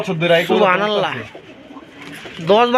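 A pet pigeon with cream-coloured eyes, kept for about ten to twelve years, coos in close, loud, rolling calls that rise and fall, with a pause before a final coo.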